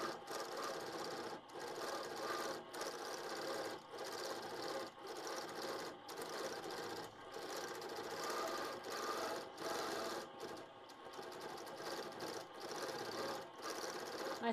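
Quilting sewing machine stitching metallic thread at 18 stitches per inch, a steady close, continuous mechanical whir with brief pauses throughout.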